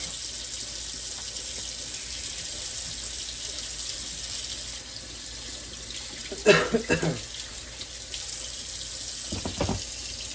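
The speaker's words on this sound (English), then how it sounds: "I'm gonna flip you over here since I dropped my wooden spoon. I just need to wash it really quick." Tap water runs steadily into a kitchen sink while a dropped wooden spoon is rinsed during goulash cooking, a close, continuous hiss with a few louder splashes and clatters near the end.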